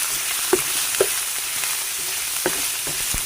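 Pork sautéing in a pan for ginataang langka with shrimp, a steady close sizzle with a few sharp clacks of a utensil stirring against the pan.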